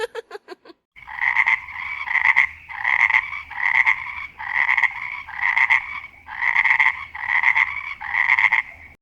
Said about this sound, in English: the children were surprised to find numerous frogs all over Froggy Land, hopping around and singing joyfully